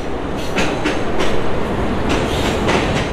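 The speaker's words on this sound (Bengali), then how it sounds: "এই যে বন্ধুরা, এখন আরেকটি ট্রেন ঢুকলো।" A passenger train from Rajshahi bound for Khulna rolls into a station, wheels clacking in a steady beat of loud, close bursts over a broad rumble.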